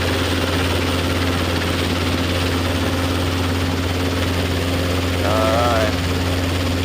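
A Robinson R22 training helicopter runs steadily on the ground at an airfield near a parallel taxiway, a constant droning engine and rotor hum with a low throb, close and continuous, with a brief rising tonal whine near the end.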